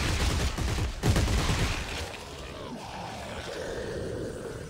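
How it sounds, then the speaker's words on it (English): Gunfire in Dead Space 3 while shooting at an enemy: a burst of rapid, loud shots up front, then a fading rumble and lower mechanical hum as the firing stops. "I'm shooting at him a lot."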